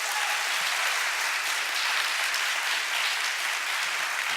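A full audience keeps up loud, even applause for two debaters after a debate on educational equity, a continuous crowd of clapping hands with no voices over it.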